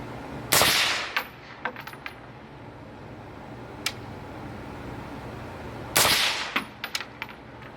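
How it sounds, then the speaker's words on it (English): Two loud rifle shots fired at an AA battery target while zeroing an AGM Adder thermal scope, several seconds apart, each a sharp crack followed by a brief metallic ringing tail. "I'm going to go ahead and pop off 2 shots at it."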